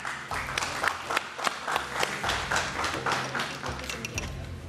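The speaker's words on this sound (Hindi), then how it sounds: "इनके लिए बहुत सारी तालियां।" A studio audience at a Ramadan iftar television show claps for a couple being welcomed on stage, a lively burst of many hands with individual claps standing out, running continuously over a low background hum.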